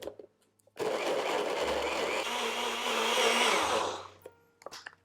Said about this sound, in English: we're just going to blend these up until all of those dates are completely pulverized